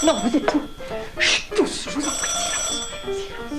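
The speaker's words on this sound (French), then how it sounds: "C'est le téléphone." An old telephone bell rings indoors in a French stage comedy, its bright trilling rising over several voices as a man hushes a group, then it continues steadily and fairly loudly.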